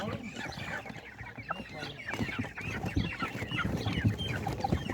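Many chicks and chickens peep and cluck together at a busy, crowded market, with people talking nearby underneath the constant chirping.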